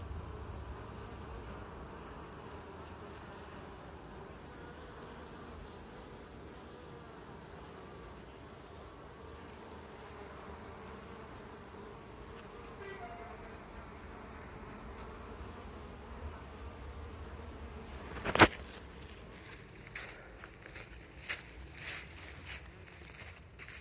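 Honeybees streaming in and out of a heavily laden hive at an apiary in autumn, a steady low buzzing drone filling the air, with a sharp knock and a few louder rustles near the end.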